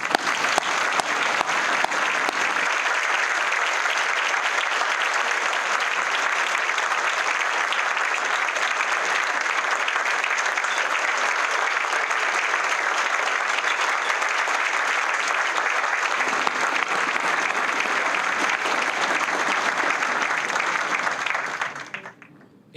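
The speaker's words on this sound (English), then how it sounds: "So if you could please just give me another round of applause for Steve." A large audience at a community event applauds steadily for about twenty seconds, a dense, even wash of clapping that fades out at the end.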